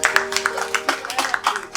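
A group of children claps in quick, uneven rhythm, close by, with a steady tonal hum underneath at a camp for displaced people.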